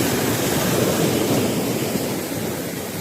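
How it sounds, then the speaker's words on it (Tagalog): Heavy surf pounds a fishing spot shoreline, a loud, unbroken roar of breaking ocean waves mixed with wind rumble, easing slightly toward the end. "Ang lalakas ng alon, no?"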